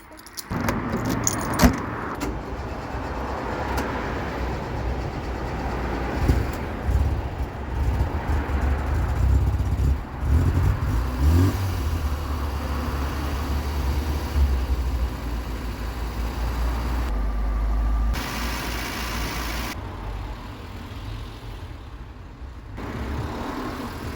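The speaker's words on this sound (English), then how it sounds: "Let's see if it starts." A Ford Fiesta engine cranking and catching after sitting unused for a week, with a steady, slightly tappity idle close by, plus some jangling and clunking over a continuous rumble, without voices.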